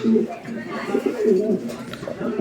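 Black nun pigeons coo in steady soft, low-pitched rolling calls at close range while someone talks intermittently nearby.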